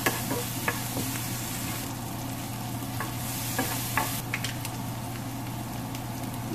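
Onion sweating in a pan with a pinch of salt and pepper, a steady gentle sizzle with a low hum underneath and occasional light taps and scrapes, close by, with no speech.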